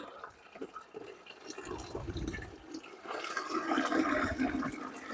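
Liquid gurgles and splashes as it pours from a bucket into a bag. Fairly faint close bubbling gets fuller and louder in the second half, with no talk over it.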